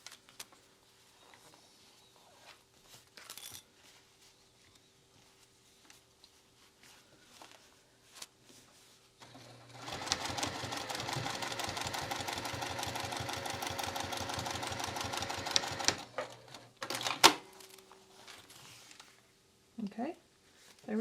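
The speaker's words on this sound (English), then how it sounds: "now we got to top stitch down this side." A sewing machine top stitching a fabric wristlet runs in one steady, close burst of rapid needle chatter for several seconds, framed by quieter handling sounds before and after.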